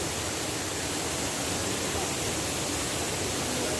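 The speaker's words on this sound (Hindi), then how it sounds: "आज आपको पुर्तगाल में सिंत्रा में झरने की सैर कराएंगे। ये पानी आ रहा है, बह रहा है।" A waterfall near Sintra, Portugal pours in a steady, dense rush of falling water, loud and unbroken across the short stretch with no other sounds rising above it.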